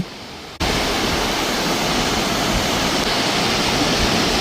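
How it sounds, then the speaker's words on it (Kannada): A waterfall pouring into a pool below cuts in suddenly after a brief quiet moment, then roars as a loud, steady wash of falling water. "ಅಲ್ಲಿ ಮೇಲಿಂದ ಬಿದ್ದಂಥ ನೀರು ಕೆಳಗಡೆ ಒಂದು ಪೂಲ್ ರೀತಿ ಫಾರ್ಮ್ ಆಗಿದೆ"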